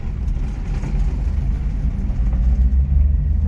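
A John Deere minitruck's engine drones steadily and loudly while the vehicle drives, a low continuous rumble shifting through the gears, close and without any voices.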